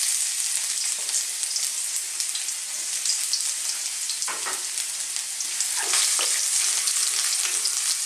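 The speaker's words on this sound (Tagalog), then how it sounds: "Mainit na po yung aking wok. Meron na rin po siyang oil. Mainit na rin siya. Lagay na natin ang ating luya at ang garlic." Ginger and garlic sautéing in hot oil in a wok, a steady bright sizzle with occasional crackles and stirring scrapes, close and continuous with no talk.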